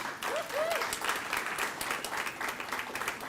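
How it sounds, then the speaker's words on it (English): A reception crowd at a football summit cocktail event welcomes the premier with a big round of applause, dense continuous clapping close by and filling the room from start to finish. "we welcome our premier with a huge round of applause"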